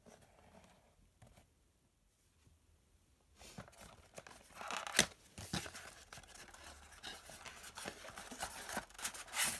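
Plastic packaging around a FansProject Glacialord toy being torn open: after a quiet start, close crinkling, ripping and crunching bursts build up and keep going to the end.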